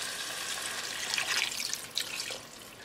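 Water trickles steadily into a pot of beef rice with potatoes and carrots, one cup poured in a continuous close splashing stream with a brief louder gush near the end; no one speaks.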